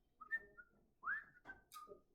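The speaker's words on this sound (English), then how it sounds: "I'm bad at whistling to begin with, but in a mask, much more tricky" A person whistles a few short, breathy, uneven notes through a face mask, faint and halting with gaps between them.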